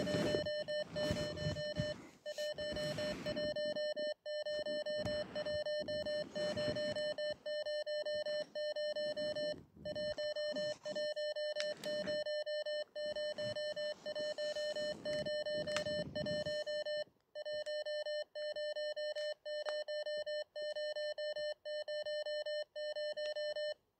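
A video-game doorbell beeps in a loud, repeating electronic tone with short gaps, running almost continuously and staying insistent throughout, with noisy movement sounds underneath in the first part.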